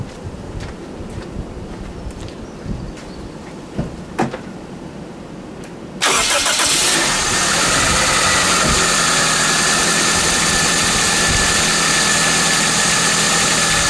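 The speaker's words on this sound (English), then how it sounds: "I'm now going to start the car" A car engine cranks and catches about six seconds in, then settles into a steady, loud idle that runs to the end, with faint handling noises and light wind before the start.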